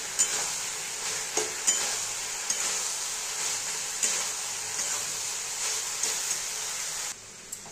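Soybeans fry in spice paste in a pan while a spoon stirs them, a continuous faint sizzle punctuated by light irregular scraping and clinks against the pan, fading out near the end.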